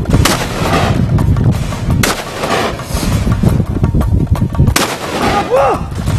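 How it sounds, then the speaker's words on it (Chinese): Rifle fire rings out during armed police special-forces shooting training on water, with several sharp, loud shots spaced irregularly over a constant rumble of boat engines and churning water. "你看水上射击，人枪在动，目标也在动"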